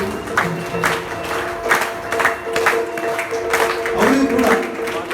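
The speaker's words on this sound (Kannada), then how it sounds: "ಜೋರಾಗಿ ಚಪ್ಪಾಳೆ" Loud, sustained applause and cheering from a crowd at a temple festival gathering, with dense clapping throughout and voices mixed in.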